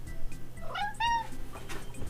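A house cat gives two short, clear meows close by, the second longer and rising, against quiet room background.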